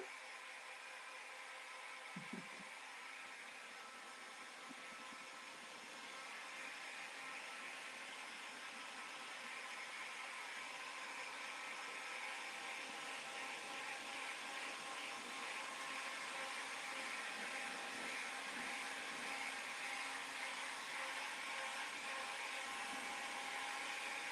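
A dryer blows on fresh paint as a steady whirring hum, fairly faint and unbroken. A brief click comes early on, and no one speaks.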